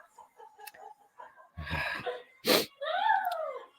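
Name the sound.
sneeze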